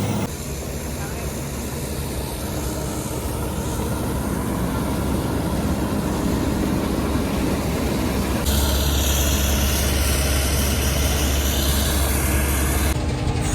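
A combine harvester engine drones continuously and loudly, a dense mechanical rumble that thickens partway through, with voices talking over it.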